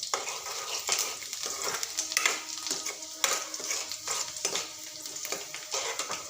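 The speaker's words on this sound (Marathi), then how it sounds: "तर आपला कांदा छान असा मस्त हलकासा शिजत आलेला आहे" Onion softening in oil in a pan for a quick masala brinjal curry, a steady close sizzle with repeated scraping stirs of a spoon against the pan, no voices.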